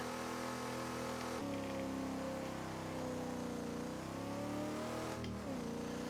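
A mid-90s HSV VS Clubsport sedan engine revs in Assetto Corsa, with a steady loud drone that climbs in pitch through gear changes and no voices.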